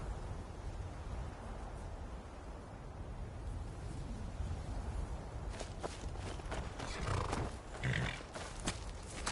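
Horse hooves clop at a walking pace over a steady low ambient rumble in a war horse scene, growing more distinct and irregular in the second half.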